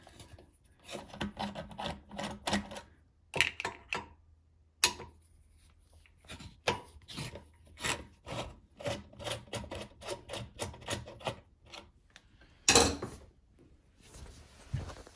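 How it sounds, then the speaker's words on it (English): Screws unscrewed from a toilet seat's plastic fittings ahead of fitting a bidet: rapid, rhythmic ratcheting clicks and rasping turns in short bursts with brief pauses, close up and no speech. "So I'm going to unscrew both of these"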